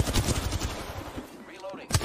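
Gunfire in a video game shooter, rapid machine-gun bursts close and loud, followed by a brief lull and another sharp shot near the end, with some talk mixed in.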